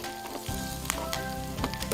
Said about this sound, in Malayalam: കൂടെ 2 തണ്ട് കറിവേപ്പിലയും കൂടെ ചേർത്ത് കൊടുക്കുന്നു.